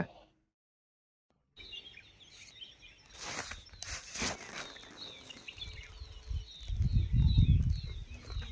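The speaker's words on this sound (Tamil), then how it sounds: "இந்த பறவைகளின் ஓசைக்கு நடுவுல" Birds chirp and call in repeated short notes in an evening forest at Muthanga Wildlife Sanctuary, Wayanad, joined by scattered louder rustles and a low rumbling noise toward the end.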